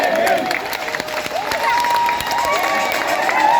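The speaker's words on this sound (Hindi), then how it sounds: "ये देखिए ताली ताली" A dense crowd at a Jantar Mantar protest claps and cheers in a continuous loud wash, with shouting voices rising over it.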